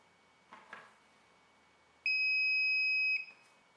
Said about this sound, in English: To enable the beeper, simply turn the tester off and on again.